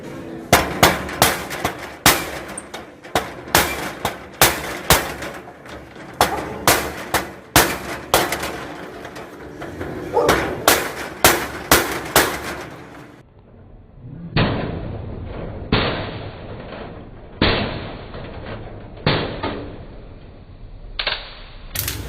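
Sharp metallic hammer strikes ring out while hammering out a rivet head, in quick, uneven bursts, dozens of loud close blows with brief pauses between flurries.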